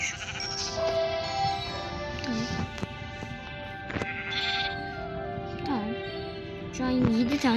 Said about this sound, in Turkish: koyunumuz oldu